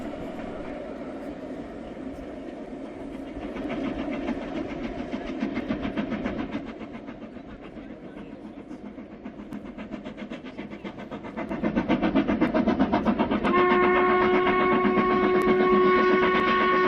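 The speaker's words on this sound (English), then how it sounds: "we did happen to see the train go past us" A train rumbles past with rhythmic clattering of wheels on track, growing louder, then a long horn-like tone sounds near the end.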